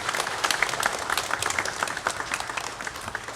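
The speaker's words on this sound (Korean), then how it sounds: "다시 한번 큰 박수로 한번 격려할까요?" A church congregation claps together in a dense, continuous patter of many hands, moderately loud and steady with scattered sharp slaps, and no voice on top.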